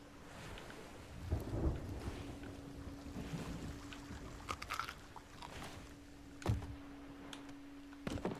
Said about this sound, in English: Oh, not good timing for a storm.